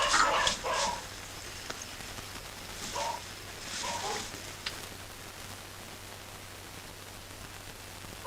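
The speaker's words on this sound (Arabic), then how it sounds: "انت سامع اصوات الكلاب وانت عارف عقدتي من الكلاب." Several dogs bark and yip in short scattered bursts over a hissing, staticky background, some barks nearer and others farther off, with a low steady hum underneath.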